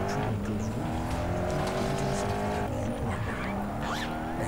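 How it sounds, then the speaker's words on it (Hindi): A car drifts in the Gangster Vegas video game, its engine roaring continuously while tires squeal and skid through the turn under steady game noise. "अभी ड्रिफ्ट मार ली भाई"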